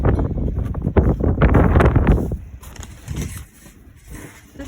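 Wind gusts blowing into a chicken coop in winter, a loud rough buffeting rush that is strongest in the first half and then eases into a lower, steadier blow.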